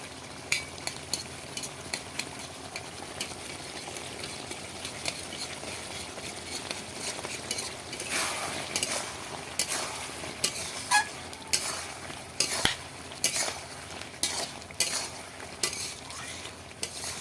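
Meat cooking in a pan with garam masala paste, a low steady sizzle under irregular clinks and scrapes of a stirring spoon, louder and busier stirring toward the end, close and fairly quiet with no voices.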